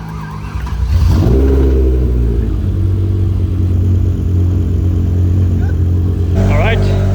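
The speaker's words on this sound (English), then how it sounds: "So we're gonna start it again and we're gonna see if we fixed all the leaks." A BMW M5 E60 V10 cranks and fires up, the starter whine rising into a loud, steady idle that holds close by, with a voice speaking briefly over it near the end.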